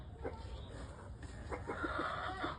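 Rhode Island Red hens on a farm give soft, low clucks, a few short pulses close by over a steady hum of background noise.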